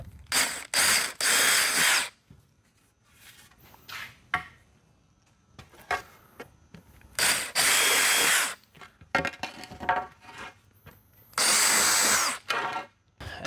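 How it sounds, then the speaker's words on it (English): Power drill boring a 5/16 hole for a bolt in a box van interior build, with several loud bursts of whining drilling separated by quieter ratcheting, clicking and handling noises. "And then I drill a 5/16 hole"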